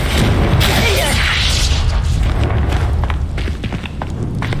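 A Confringo blasting spell exploding in Hogwarts Legacy, a loud booming burst with a whooshing rush at the start that decays into rumbling debris and scattered thuds.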